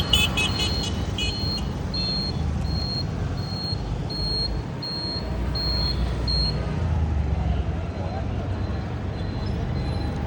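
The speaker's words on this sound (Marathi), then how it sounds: "आमच्या यवतमाळचं ट्रॅफिक खूप वाढलं." Evening street traffic at Lohara Chowk in Yavatmal city, a constant rumble of passing cars and heavier vehicles with a repeating reversing beep early on, heard from within the flow of traffic.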